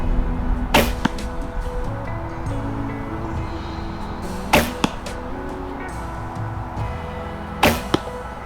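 Three sharp shots from a Bear Ausable 64-inch reflex-deflex longbow spaced a few seconds apart, each a crisp snap and thwack, over steady outdoor background noise.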